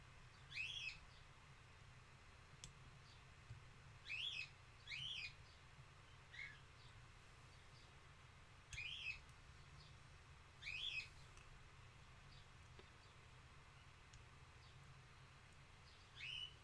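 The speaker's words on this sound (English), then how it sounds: "And birds are wondering where I am right now." Outdoor birds chirp in short, bright bursts of a few notes each, repeating every couple of seconds, faint and a little distant over a low steady hum.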